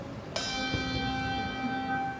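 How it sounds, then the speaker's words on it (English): A large, heavy handbell struck once at a winter instrumental concert, its bright metallic strike ringing out with a long, sustained shimmering tone that hangs in the room. "we had some pretty big, heavy bells."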